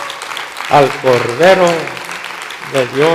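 Church congregation clapping during a Spanish-language sermon about the Lamb, with a preacher's voice talking loudly over bursts of applause.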